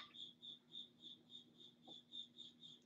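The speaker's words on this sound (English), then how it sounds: "I don't know if that's your cricket or his cricket making the noise" Crickets chirp in steady, evenly spaced bursts at about three per second, faint but clear against a quiet background of low hum, with no talk.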